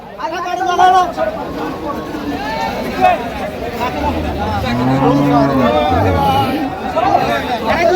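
A cow lows at a busy village cattle market where cows are sold with their calves, a deep, drawn-out moo sounding midway through over steady crowd hubbub and nearby voices talking.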